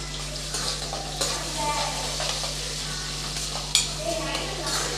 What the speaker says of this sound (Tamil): இதை நல்லா வதக்கி விட்டுறலாம்.